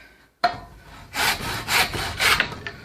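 A hand saw cuts a part clamped in a vise for making a hammer, several rasping back-and-forth strokes close by with no voices.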